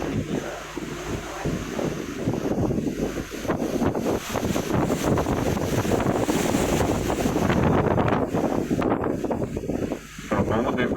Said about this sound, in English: I think the wind's blowing harder again